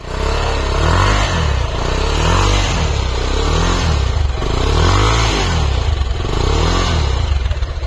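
A 2019 Bajaj Pulsar 220 motorcycle running after a start, its engine loud and close with a steady throbbing idle and slight swells of revving, no voices.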